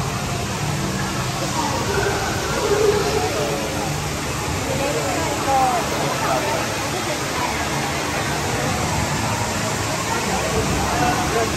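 Indoor waterfall inside the Cloud Forest dome in Singapore roars as a loud, steady, broadband rush of falling water with no breaks, a voice talking over it.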